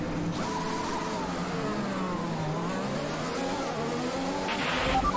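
Formula 1 race car engine in the F1 2021 video game at the Portugal circuit, droning continuously at moderate level with the pitch rising and falling as the car revs during a warm-up lap, with no talk.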